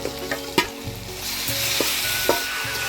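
Meat frying in a pan for a Jamai Sasthi feast, steady loud sizzling with several sharp scraping clatters of stirring at irregular intervals.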